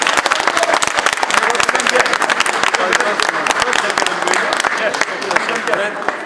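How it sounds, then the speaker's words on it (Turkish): An audience at a painting exhibition claps warmly and steadily for the whole stretch, dense and loud applause close by with no pause. "Hepiniz Murat kardeşime bir yüzü- yürekten alkışlıyoruz."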